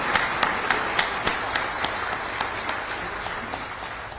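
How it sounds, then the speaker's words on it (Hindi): Large audience at a Gujarat assembly event gives steady, dense applause to welcome President Droupadi Murmu, a continuous roar of clapping with a few sharper claps standing out, no speech. "आइए तालियों की गूंज से महामहिम राष्ट्रपति महोदया का स्वागत अभिनंदन करें।"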